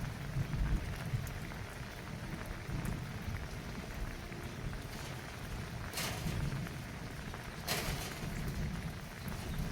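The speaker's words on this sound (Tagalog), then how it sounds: "Umuulan. Malamig eh." Rain falls steadily in a continuous soft patter, fairly quiet and even, with a couple of brief sharper splashes or drips standing out near the end.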